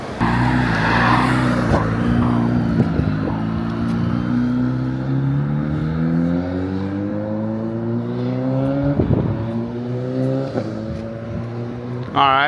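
A 2024 Suzuki Hayabusa with Brocks cams and a Yoshimura AT2 exhaust rides off nearby, its engine note rising loudly through repeated gear shifts. A voice is heard briefly over it.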